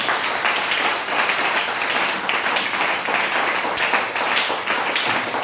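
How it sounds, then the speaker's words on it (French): A church congregation in Abidjan claps steadily throughout, a dense, even wash of many hands at close range with no voices rising above it. "Acclamez pour vous-même."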